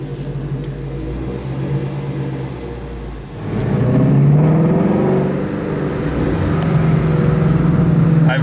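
Ford Shelby GT350R Mustang engine while driving, a low droning rumble that swells as the engine revs up midway and then holds a strong, steady tone inside the car.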